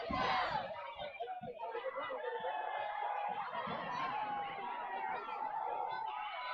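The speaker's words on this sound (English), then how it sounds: "Sounds like Central wants a touchdown is what I'm hearing from the crowd" Home crowd at a Central York high school football game cheering and chanting for a touchdown against Manheim Township, a sustained loud roar with a few shouts on top.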